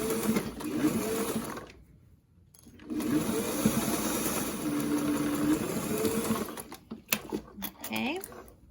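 A sewing machine runs in two steady bursts, stitching along the crease of bias tape on a fabric face mask, close and fairly loud, with a short pause between runs and faint handling noises near the end.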